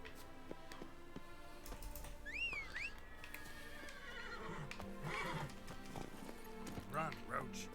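Roach the horse in The Witcher 3 video game gives a sharp whinny and neighs again later over rhythmic galloping hoofbeats, with faint game music and a voice speaking.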